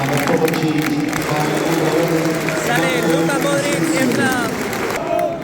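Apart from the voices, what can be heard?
stadium crowd applauding players at Celtic Park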